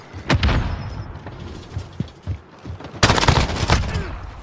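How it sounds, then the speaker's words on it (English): Combat in Call of Duty: Modern Warfare with a stun grenade going off: scattered close gunshots and thumps, then a loud sudden bang with a broad burst of noise near the end, with no talk over it. "Throwing a stun!"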